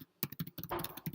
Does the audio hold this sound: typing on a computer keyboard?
yes